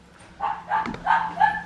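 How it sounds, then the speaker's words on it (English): A dog gives a few short, excited yips and barks in quick succession at moderate volume, indoors with a faint steady hum behind. "She's barking a bark."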